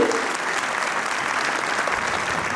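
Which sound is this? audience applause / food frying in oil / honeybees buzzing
audience applause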